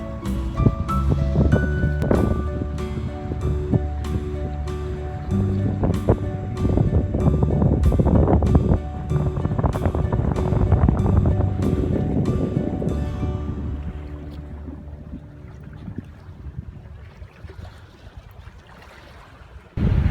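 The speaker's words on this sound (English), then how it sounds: "there's a cool breeze by the Great South Bay" Waves lapping and a steady breeze on the Great South Bay at Bellport, Long Island, with a boat nearby; continuous wash of water and wind rumble with repeated light knocks throughout, easing slightly toward the end.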